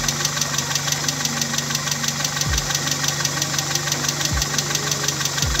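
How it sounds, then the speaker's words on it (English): A car engine idles with a fast, steady metallic ticking from bad hydraulic valve lifters, close and constant, with a few dull low thumps underneath. "if the valve lifters go bad, this is what the car sounds like"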